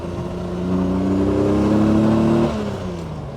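A 1960s Aston Martin DB6 with a 280-horsepower engine drives through bends, its engine note swelling to a loud, steady mid-pitched drone, holding, then easing off as the car comes out of the turn.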